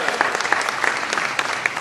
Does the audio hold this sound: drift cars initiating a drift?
no